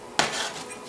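A spoon knocks once against a pot as chocolate goes into a thick mixture, followed by a brief scraping stir, close and short.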